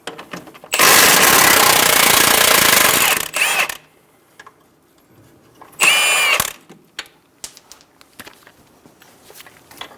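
A power tool, likely an impact wrench on a 19mm socket, loosens the strut nut on a 2010-2014 Subaru Outback front strut assembly: one long loud burst of about two and a half seconds, a short follow-up, then a second brief burst, with quiet handling sounds between.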